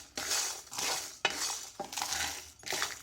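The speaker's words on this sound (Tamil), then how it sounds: "மிதமான சூட்டில் வச்சு இதை வறுத்து எடுத்துக்கோங்க." Coriander, pepper, cumin and dried chillies dry roasting in a pan over medium heat, heard as repeated close scraping and rattling strokes of a spoon against metal, with brief pauses between stirs.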